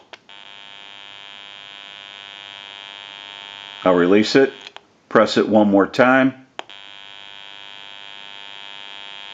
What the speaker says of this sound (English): You may hear a little bit of an electrical hum.